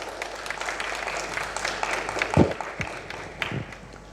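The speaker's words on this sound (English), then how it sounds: "Please welcome him with a huge round of applause" An audience at a school leadership summit claps in welcome for a speaker, with a steady wash of applause and a few louder nearby claps and thumps.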